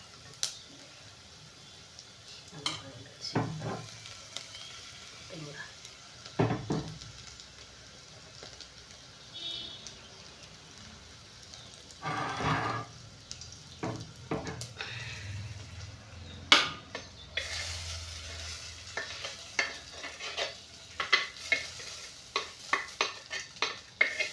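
Cooked rice being stirred into a tempering in a clay pot, with scattered scraping and clinking of a spoon against the pot over a soft background sizzle, and no talk.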